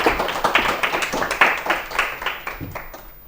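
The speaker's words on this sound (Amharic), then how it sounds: "እሺ አጨብጭቡለት።" A small group claps together at a children's TV quiz competition in Ethiopia, a quick, steady patter that gradually thins and fades toward the end.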